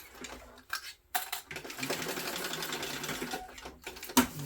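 A sewing machine bastes fabric pieces onto the sides of a backpack, running in a steady fast whir with brief pauses and restarts, close and fairly quiet, with a sharp click near the end.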